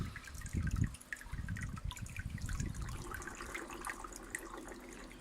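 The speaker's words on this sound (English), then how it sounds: "discharge all the water from the grow bed, and the siphon breaks" Water drains from a small home aquaponics grow bed as a bell siphon empties it, a close, busy gurgling trickle that swells early, then settles into steady dripping and splashing.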